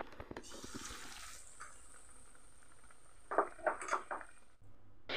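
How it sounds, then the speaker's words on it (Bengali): Bread chops deep-fry in a pan of oil with a quiet, steady sizzle, joined by a few clinks of a utensil against the pan. "এই একইভাবে আমি সব ব্রেড চপগুলোকে ভেজে নিলাম"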